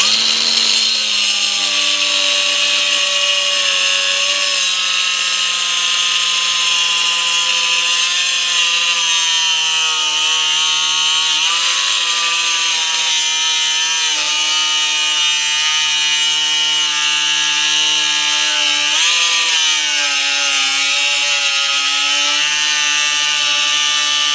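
Newer 4-inch Metabo cut-off wheel cutting metal, a loud continuous high whine with shifting harmonic tones that dip slightly as the wheel is pushed into the work, sustained without pause for the whole stretch.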